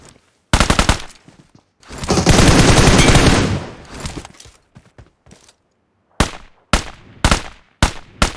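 Heavy automatic gunfire in PUBG Mobile, a dense sustained burst of rapid shots followed by short separate bursts, loud and close with strong kick, no talk.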